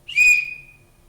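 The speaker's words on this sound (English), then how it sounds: "The main mechanic of the piece is using a whistle to open and close the audience's eyes" A single whistle blast, used as a theatre cue for the audience, rings out clear and close with a sharp start and a long fading tail.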